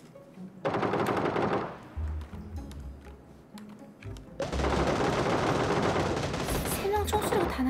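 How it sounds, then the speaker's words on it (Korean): Bursts of rapid automatic gunfire in a video game, first a short volley and then a longer sustained stretch, with quieter gaps in between and faint background noise. "세 명 총소리가 다 나는데?"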